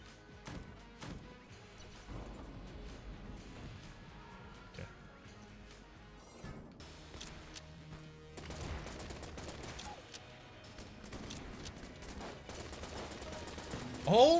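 Rapid bursts of video-game gunfire from Enter the Gungeon, with dense, crackling shots layered over game music and effects, clustering more thickly toward the end.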